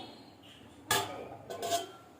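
Lid set on a kadai cooking pan for a vegetarian jackfruit and pointed gourd dish, a sharp metallic clank followed by a second lighter rattle and clatter, close and fairly loud over quiet background, no talking.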